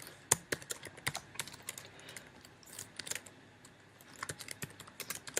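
Computer keyboard typing while writing code, a close run of quick irregular key clicks with short pauses between bursts.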